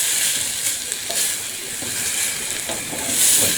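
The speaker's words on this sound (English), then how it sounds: "Now we give it a good wee stir about." Beans being warmed are stirred in a pan, a steady close hiss of gentle sizzling with soft scraping strokes and no talking.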